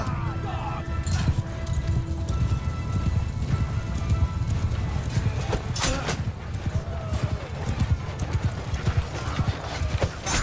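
Cavalry horses gallop in a Mount & Blade II Bannerlord battle, a dense, continuous drumming of many hooves up close, with occasional crashes and battlefield noise over the top.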